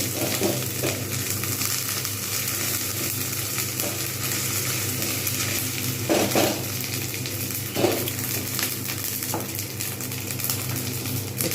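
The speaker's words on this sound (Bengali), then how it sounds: "এবারে আমি এর মধ্যে দিয়ে দেবো আদা রসুন যে পেস্ট রয়েছে সেইটা আমি দিয়ে দেবো আর একটু নেড়ে নেব" Ginger-garlic paste stirred and fried in a pan for a Bengali taro curry (kochur dom): a steady, dense sizzle runs throughout, with a few spoon scrapes and clinks standing out now and then.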